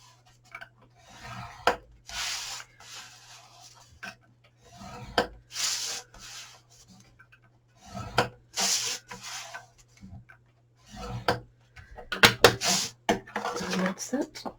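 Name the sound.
scoring paperboard for a Christmas box lid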